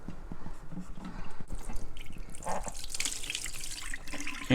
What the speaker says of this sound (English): To empty this, we're just going to pull this plug and obviously just pour it out.